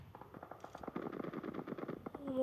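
Rapid automatic gunfire in PUBG Mobile, a dense burst of sharp repeated shots lasting about two seconds, fairly close and clear.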